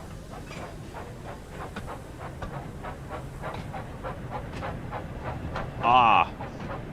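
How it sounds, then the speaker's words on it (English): Toy-like train from a Thomas & Friends video game shunting a brake van, a steady rolling clatter with rhythmic clicks throughout and a brief brighter squeal or whistle near the end. "we're just shunting the brake van"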